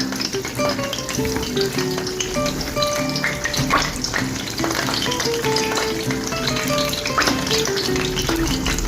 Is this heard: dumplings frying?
yes